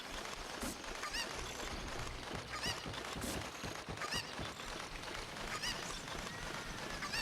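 A chicken in the video game Ocarina of Time: Master Quest clucks and squawks repeatedly, its calls scattered over a steady, hissing background.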